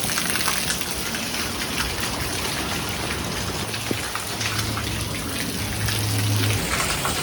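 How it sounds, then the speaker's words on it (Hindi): Rainwater pours through the roof into a house during a downpour, a dense, steady gushing and splashing that continues throughout with no talking. "छत से भी पानी आ रहा है, अभी तो 1 सेकंड हो गया बारिश शुरू हुए"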